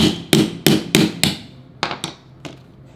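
A hammer taps a step-up floor transition strip between vinyl plank and tile into place: eight sharp, ringing knocks, the first five evenly spaced and loud, the last three slightly softer and more spread out.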